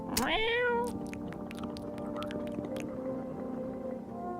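A cat in the game No, I'm Not a Human gives a single loud, rising meow at the start, then settles into a softer, steady purring hum with light clicks above it.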